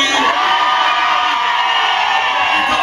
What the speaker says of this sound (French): Et ce sont elles qui font le plus de bruit.